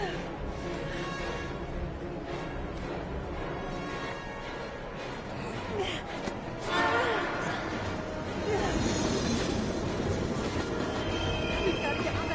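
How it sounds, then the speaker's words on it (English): Train rumbling and clattering on rails in the video game Heavy Rain, a steady loud roar with rising intensity midway and some wheel squeal, with voices over it. "We've got to get on that train, Ethan."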